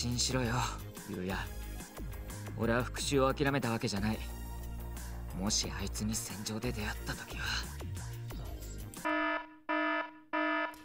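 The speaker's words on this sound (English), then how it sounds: "an alarm interrupts my thoughts" In the visual novel Baldr Force, a voice and music give way to an electronic alarm that sounds three sharp, evenly spaced beeping bursts, loud and clear against sudden silence.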